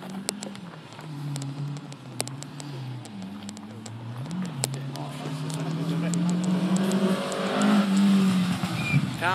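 Rally car engine on a wet special stage, revving and shifting with a rising harmonic drone that grows louder as the car approaches and passes, with a commentator talking over it.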